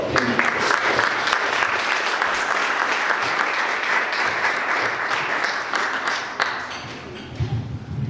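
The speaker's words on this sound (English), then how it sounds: "let's all give a great round of applause to Laura." Sustained audience applause at a FEMA keynote event, a dense, steady wash of many hands clapping that carries through the clip and thins slightly near the end.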